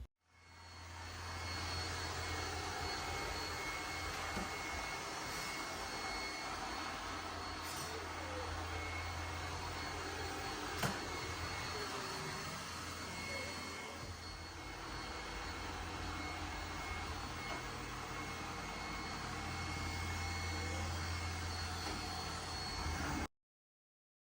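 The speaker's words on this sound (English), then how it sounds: "You can see that this robot vacuum is attacking this poor little guy" iLife T10s robot vacuum cleaner running indoors, a steady droning motor hum with whirring brush noise that holds evenly for over twenty seconds, close and moderately loud, with no talk.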